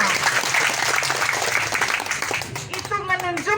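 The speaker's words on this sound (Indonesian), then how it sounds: "Tepuk tangan buat kita semua." An audience at a regional education program event gives dense, steady applause that fills the room for a few seconds, then fades as a voice begins speaking.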